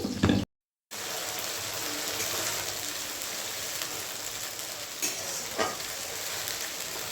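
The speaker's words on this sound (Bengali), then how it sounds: "তেল পেঁয়াজ আগে ভেজে নিয়ে তারপরে যে মশলাটা ছেড়ে দিয়েছি, মশলাটা ভালো করে ভেজে নেব" Onion and masala fry in oil for ghugni, a chickpea curry, giving a dense, steady sizzle close by. The sound drops out briefly near the start, and a couple of faint stirring knocks come later, with no speech.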